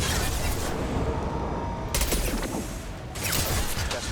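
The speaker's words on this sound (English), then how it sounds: "Taking fire." Dense, rapid gunfire from Mass Effect 2 combat rattles in continuous bursts, with sharper volleys breaking in twice over a steady clatter of shots.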